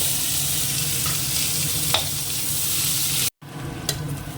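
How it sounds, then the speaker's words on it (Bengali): Chopped onion sizzles steadily in hot oil in a pan while being stirred, with a continuous close frying hiss, a couple of brief scrape clicks, and a momentary dropout near the end. "পেঁয়াজটা দিয়ে দিলাম"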